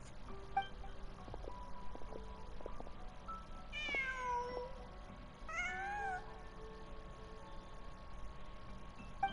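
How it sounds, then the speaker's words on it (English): A cat in the Genshin Impact video game gives two faint, drawn-out meows a couple of seconds apart over quiet ambient game sound. "Just a cat."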